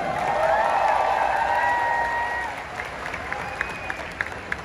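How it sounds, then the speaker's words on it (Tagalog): Crowd applause and cheering at a political supporters' rally, a dense clapping wash with whistles and raised voices that fades to scattered claps. "Isang malakas na palakpak naman dyan!"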